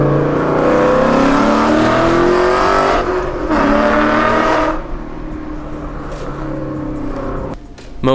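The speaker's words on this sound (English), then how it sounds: "when you bounce off of that rev limiter, it cuts spark, so it's dumping a bunch of fuel" A tuned 2014 Mustang GT Track Pack on a chassis dyno roars loudly at full throttle, climbing in pitch, then holds against the rev limiter before the engine note drops away.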